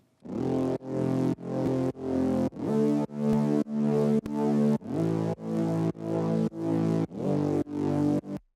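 A thick, buzzy stereo synth bass plays a steady run of short sustained notes in an even pulsing rhythm, loud and full, with no voices.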